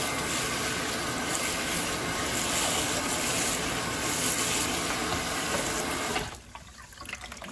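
Steady rushing of running water as barberries are washed by hand, loud and continuous, then the flow stops abruptly near the end leaving a quieter background.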